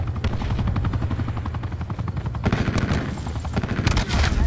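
Helicopter rotor chopping steadily through a Call of Duty-style shooter match, mixed with dense bursts of automatic gunfire and explosions, loud and continuous throughout.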